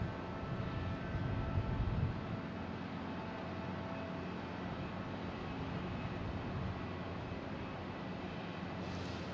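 A JetBlue Airbus A321neo at Boston Logan airport produces a steady, distant jet engine rumble that holds at an even level throughout.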